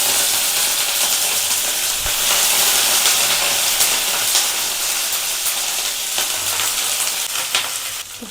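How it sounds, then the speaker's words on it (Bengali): Cauliflower pieces fry in hot oil in a pan, giving a loud, steady, bright sizzle that runs unbroken from start to finish and eases slightly toward the end. "দিয়েই প্রথমে আমি ফুলকপিটা ভেজে নেব।"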